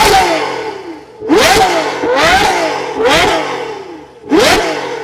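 A Ferrari 812 V12 revs hard in five repeated bursts, each one rising to a loud, raw howl and then falling away, close by with no talking.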